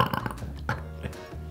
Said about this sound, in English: She also just burped into that one